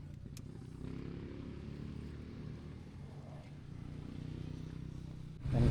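A motorcycle engine runs with a steady low rumble at moderate distance on uneven, sloping ground, continuous and fairly faint, swelling louder at the very end.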